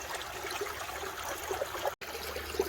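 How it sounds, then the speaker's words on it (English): Water flowing off the end of a gold sluice set in a stream, a soft steady trickle and gurgle with small drips, faint and continuous, no one talking. "the way the water is flowing off the end here"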